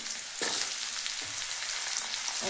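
Potatoes fry in a pan of hot oil with a steady, close sizzle that swells as they settle, plus a couple of quick stirring scrapes and no speech.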